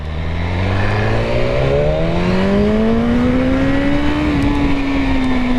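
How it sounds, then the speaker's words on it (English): A BMW S1000RR sport motorcycle engine revs up loud and close, its pitch climbing steadily into a high sustained wail that holds near the top. "The infamous rev."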